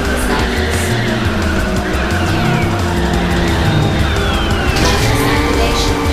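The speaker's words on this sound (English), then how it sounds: "Nitrous activation through drift." In the video game Ridge Racer 6, a car drifts with nitrous engaged: a continuous roaring engine under long screeching tire squeal, loud and close the whole way.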